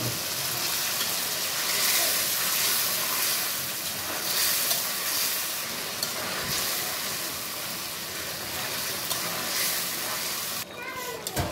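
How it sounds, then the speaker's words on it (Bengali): Green chilies and fried chicken pieces sizzle in a pot while cooking broiler chicken biryani, a steady, close, fairly loud frying hiss that carries on throughout with faint stirring and a brief clatter near the end. "কাঁচামরিচ দিলাম। ভাজা মাংসগুলো দিয়ে দিব।"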